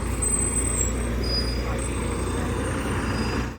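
A shuttle bus serving a golf event at St Andrews rolls past near an electric cycle hire spot in Dundee, Scotland, its steady engine rumble and road noise holding loud and close throughout.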